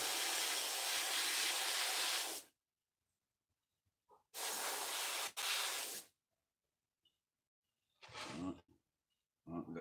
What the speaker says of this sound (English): You curl it right up and then you spray it.